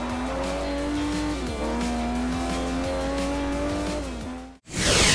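A car in the racing game Forza Motorsport 4 accelerates hard, its engine note climbing through several gear shifts with tire squeal, loud and close, then a brief drop before a burst of noise at the end.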